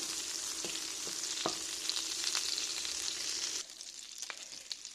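Butter melting in a hot pan for garlic butter shrimp gives a steady, bright sizzle, with a few soft clicks and taps over it before the sizzle drops to a quieter hiss partway through.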